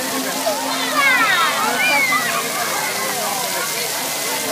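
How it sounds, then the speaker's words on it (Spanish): Water flows and sloshes steadily in a magic water circuit pool in Lima, Peru, while a person talks over it and faint voices carry in the background. "aparentemente no hay agua y se aparece de la nada otra vez el agua"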